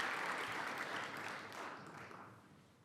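Sustained applause fades gradually from an audience gathered in a seminary chapel for a homecoming worship service, the clapping blending into a dense, reverberant wash.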